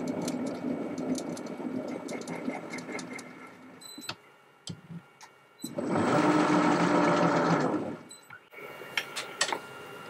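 A metal lathe screw cutting between centres, the tool run along the thread: steady mechanical whirring and ticking, with a louder sustained surge midway before it settles back.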